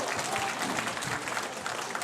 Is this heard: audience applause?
yes